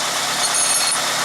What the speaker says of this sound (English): you can hear the car running